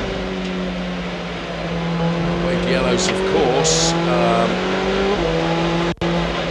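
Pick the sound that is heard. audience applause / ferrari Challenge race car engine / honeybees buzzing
ferrari Challenge race car engine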